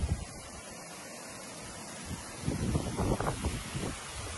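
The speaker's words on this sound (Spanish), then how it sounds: "Se oye como que están pasando ríos por abajo" Hot water flows underground beneath a street in El Salvador with a low, rushing rumble and wind-like hiss, quiet at first and then swelling into louder gushing surges toward the end.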